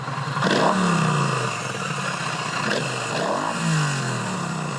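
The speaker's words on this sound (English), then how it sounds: "You can see that the whole chassis kind of moves a little when I rev the engine." A Triumph Street Cup 900cc parallel-twin motorcycle revving at a standstill, with a steady idle broken by three quick throttle blips that rise and fall, close to the microphone.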